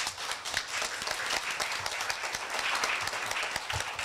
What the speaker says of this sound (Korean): 축하하는 의미에서 학우들께서 박수로 환영해 주시기 바랍니다